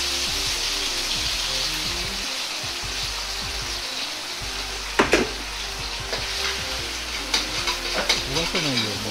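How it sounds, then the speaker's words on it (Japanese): Garlic and ginger stir-fry in oil with doubanjiang chili bean paste over low heat for twice-cooked pork, a steady sizzle broken by utensil scrapes and a few sharp pops and clatters toward the end, with no talk. "ニンニク生姜を入れ炒めます。"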